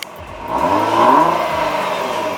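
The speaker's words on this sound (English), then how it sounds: "We'll go ahead and do a quick rev in the comfort setting." Nissan GT-R fitted with an ARMYTRIX exhaust gives a single quick rev in comfort mode, its engine note rising to a peak around the middle and then easing back down, steady and close, with no talking.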